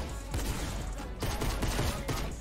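Dense bursts of video game gunfire, rapid overlapping shots in clusters that keep firing across the whole stretch, loud and close.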